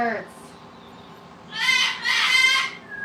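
Loud bird calls, fitting a talking parrot's imitation of a rooster crowing, come in two long harmonic bursts after a quieter stretch, fairly close and strong.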